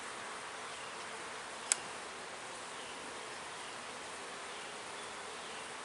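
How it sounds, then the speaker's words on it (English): Honey bees buzzing in a crowded hive box, a steady dense hiss-like drone throughout with one sharp brief click partway through. "A lot of bees in this box"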